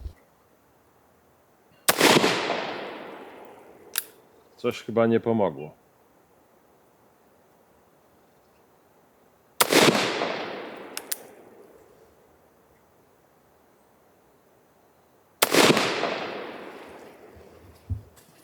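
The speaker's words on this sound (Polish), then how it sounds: "Trzy strzały oddam." Three loud, sharp gunshots from a Remington 1858 black powder revolver ring out several seconds apart, each with a long echoing decay; a brief burst of speech falls between the first two.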